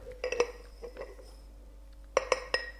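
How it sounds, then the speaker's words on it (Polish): A dish is picked up and set down during a chemistry demonstration mixing sugar and flour: a few light clinks and taps early on, a pause, then a sharper cluster of close knocks. "Bierzemy naczynie."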